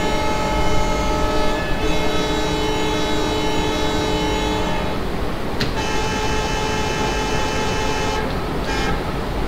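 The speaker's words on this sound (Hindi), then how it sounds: "अभी हम यहाँ से डिपार्ट करते हैं, हॉर्न बजाते हैं." A diesel locomotive in the Open Rails train simulator sounds its horn in long sustained blasts, with a brief break and a sharp click between them, over a steady rumbling engine and rail noise as a Bhusaval–Katni passenger train departs.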